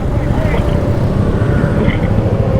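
A truck rumbles past on a busy road amid motorbike traffic, its low engine drone loud and close, mixed with wind and road noise and a voice talking over it.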